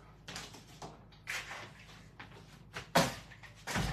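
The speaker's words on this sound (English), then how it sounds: "I'm gonna close the door." An indoor door pushed shut, a few soft bumps and rustles ending in a firmer thud of the latch, heard nearby in a quiet room.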